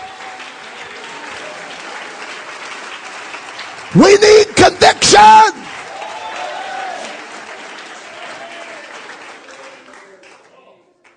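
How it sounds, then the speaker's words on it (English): A short burst of rhythmic group hand clapping from a church congregation, several sharp claps in quick succession, loud and close, with a preacher speaking before and after it. "let's clap our hands."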